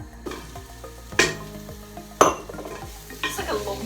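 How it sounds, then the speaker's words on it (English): Bacon sizzles and fries in a pot as it gets stirred, a steady close crackle broken by three sharp metallic scrapes and clinks of the utensil against the pot. "So I'm gonna add my bacon. It says cook until crispy"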